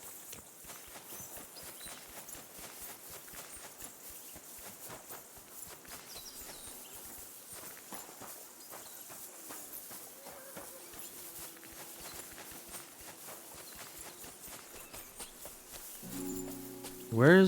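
Video game horse hooves clip-clop rapidly and continuously at a steady pace, fairly quiet, with a brief tonal sound near the end, in Kingdom Come: Deliverance II.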